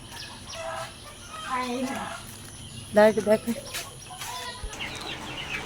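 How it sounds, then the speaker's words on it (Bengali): Small native chickens cluck in a short burst of quick, close calls at a village home, amid people talking nearby. "এগুলো একটু ছোট সাইজের মুরগি"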